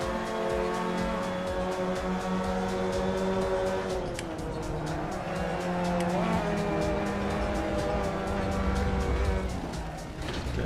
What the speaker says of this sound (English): It's downshifting with high revs.